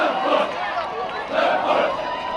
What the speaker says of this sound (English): parents, family members, and friends line the streets and cheer